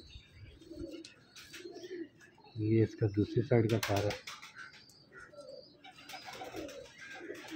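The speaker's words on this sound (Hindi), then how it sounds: "ये कबूतर जो हैं ये बहुत गुस्सा करने वाले हैं" Pigeons kept by a breeder in Lahore, Pakistan, cooing in low repeated throaty bursts, loudest in a short run midway, with someone talking nearby and faint chirps in the background.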